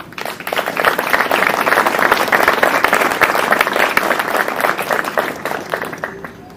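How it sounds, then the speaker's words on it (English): Sustained, dense applause from a large crowd at a military battalion change of command ceremony rises quickly, holds steady for several seconds, then tapers off at the end. "Please give them a round of applause."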